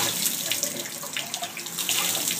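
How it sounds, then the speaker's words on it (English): Tap water runs over a filter housing to rinse it during an RO/DI cartridge change, a steady close splashing stream with gurgling variations and no speech. "Run your water."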